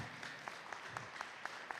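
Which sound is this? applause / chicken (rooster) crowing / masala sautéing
applause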